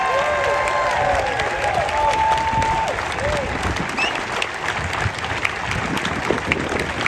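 Applause and cheering from a crowd at a State House rally against gun violence, loud sustained clapping with whoops and shouted voices rising over it.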